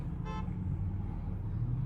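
A car horn gives one short toot near a BMW X5 SUV on the road, set over a steady low rumble of engine and traffic.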